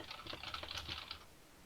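Quick, faint keyboard typing, a rapid flurry of key clicks lasting over a second, then quiet.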